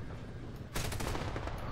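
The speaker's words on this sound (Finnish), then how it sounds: "Älä nyt minua kohti ammu, perkele." Rapid automatic gunfire in the War Thunder video game erupts suddenly after a quieter engine-like rumble, a dense burst of firing sounds.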